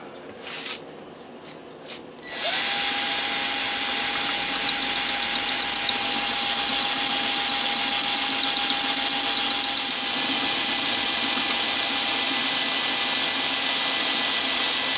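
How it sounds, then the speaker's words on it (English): A 1/8 inch masonry bit drilling into concrete during repair of a garden lawn jockey statue, a loud steady drill whine starting after a quiet moment and running continuously with a sustained tonal squeal. "This is a 1/8 inch concrete drill."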